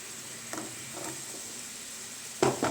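Cut jackfruit pieces stirred into melted dark jaggery in a pan: soft, faint scraping taps at intervals, then a louder clatter of the spoon and fruit near the end, with no talking.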